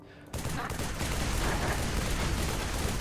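Rapid bursts of gunfire fill a VRChat game scene, a loud, continuous volley of shots starting after a brief quiet moment and holding steady throughout.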